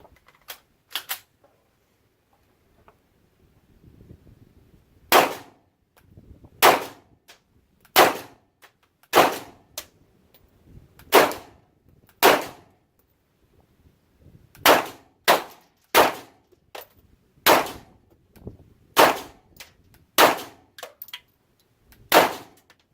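Sharp pistol shots from a CZ P-09 firing steel case ammunition at an outdoor range, about twenty loud reports in uneven bursts with short pauses, each crack ringing briefly, with faint handling noises in between.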